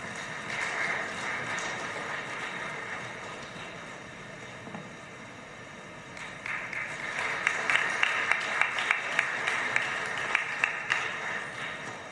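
Audience at a book launch event applauding in a hall, a steady wash of clapping that swells louder in the second half, with a few sharper individual claps standing out near the end.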